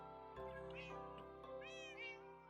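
Several Minecraft cats meow in quick succession, with clear, tonal cries over a steady game backdrop and no one talking.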